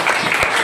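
Applause from a crowd at a writing competition prize event in Ranchi, a dense, steady patter of clapping filling the brief moment at a fairly loud level.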